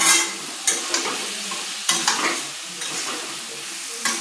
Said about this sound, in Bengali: আমি ওটা মিক্স করে দিচ্ছি এখন ভালোভাবে মশলাটা কষানোর জন্য।